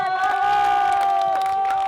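An audience cheering: a crowd of voices whoops and shouts in a bright sustained burst, close and loud for about two seconds, with no clapping evident.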